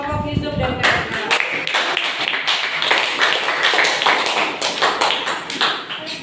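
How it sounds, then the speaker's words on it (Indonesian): A classroom of students clapping for a student group after their science experiment presentation, sharp uneven claps packed close together and continuing throughout at a fairly loud level. "Tepuk tangan buat kelompok Yusuf dan kawan-kawan."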